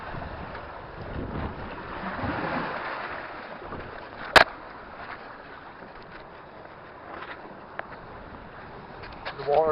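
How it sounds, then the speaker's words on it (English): Steady rushing water murmurs close by, flowing under a rock in the Scottish wild, under gusty wind noise, with a brief sharp knock partway through and voices faintly in the background. "I can hear the water goes right underneath that rock there"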